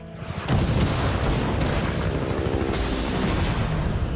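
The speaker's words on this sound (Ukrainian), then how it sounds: "вночі по їхньому табору завдають авіаудар" Airstrike blasts hit a soldiers' camp at night in a film scene: a loud deep boom erupts after a moment, followed by sustained rumbling and crackling debris with further impacts layered in.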